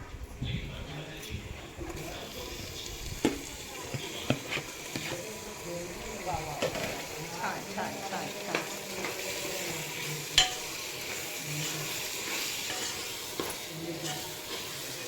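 Butter sizzles in a pan with coriander powder, a continuous frying hiss broken by scraping stirs and occasional clinks of utensils, with a voice speaking over it.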